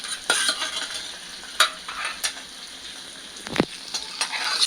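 A spoon stirs food in a frying pan, scraping in irregular strokes over a steady close sizzle, with no talking.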